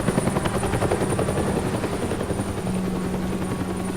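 A helicopter from the Batman Telltale video game drones steadily with a dense, continuous rotor buzz and a faint high whine, loud and unbroken for the whole stretch, with no voices.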